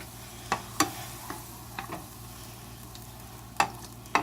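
Ground meat with sofrito for Puerto Rican picadillo cooks in a pan with a soft, steady sizzle. A handful of sharp spoon scrapes and taps sound close by, with no talking.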